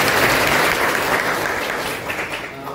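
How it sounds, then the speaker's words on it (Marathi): An audience at a school reunion gathering at Chinmayanand Swami Vidyalaya in Darji Borgaon claps together, a thick, bright wash of hands that starts strong and slowly thins toward the end. "आणि सगळ्यांनी परत एकदा आपण टाळ्या वाजवायचं."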